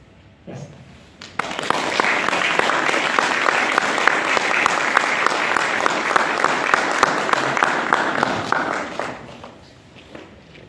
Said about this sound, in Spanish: Bueno, le repetimos el aplauso a Sergio por su presentación.